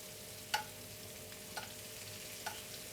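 Scallops cook in foaming butter in a pan, giving a soft, steady sizzle with a few faint ticks and pops, quiet and close.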